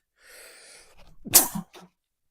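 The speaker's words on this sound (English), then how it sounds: "there's that sneeze from about 3 hours ago that I said would sneak up on me" A single loud sneeze with a sharp burst, preceded by a faint breathy intake and followed by a brief trailing sound.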